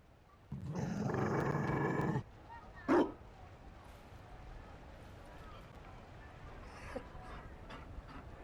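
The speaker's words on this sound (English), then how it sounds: "You found a dog. They don't breed Mabari in Olay." A Mabari war dog from Dragon Age: Inquisition gives a loud burst of growling barks lasting over a second, then one short sharp bark, with faint ambient game sounds afterward.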